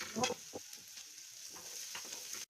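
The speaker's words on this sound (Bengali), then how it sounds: "কড়াইয়ের মধ্যে তেল আর পেঁয়াজটা দিয়ে একটু হলুদ দিয়ে এটাকে লাল লাল করে একটু ভেজে নেবো" Onions with a little turmeric frying in oil in a wok, a steady close sizzle with a louder burst near the start and soft stirring scrapes throughout, no voices.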